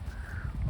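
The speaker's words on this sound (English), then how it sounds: "So many crows today." Crows caw amid strong autumn wind in Norway, a brief harsh call over heavy low wind rumble, fairly faint and distant.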